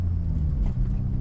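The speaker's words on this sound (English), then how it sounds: "There's a car coming." A car approaching on the road, heard from inside a parked Mini Cooper as a steady low rumble that swells slightly, with no talk over it.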